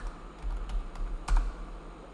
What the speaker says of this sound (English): I am typing ScientiFlow CLI flag